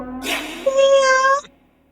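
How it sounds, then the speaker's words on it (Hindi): A cat gives a single clear, drawn-out meow, close and loud, rising then holding steady before stopping abruptly, with no other sounds around it. "बिल्ली है।"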